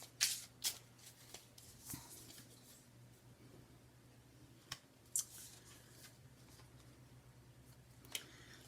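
Tarot cards are shuffled quietly in a calm room, giving soft riffling and snapping bursts at irregular intervals over a faint steady hum.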